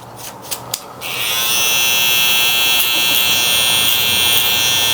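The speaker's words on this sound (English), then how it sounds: "Trimmer, clean all this bottom up right here." An electric hair trimmer at a barbershop, used on a high taper haircut, follows a few light clicks with a sharp, steady, close buzz that continues unbroken.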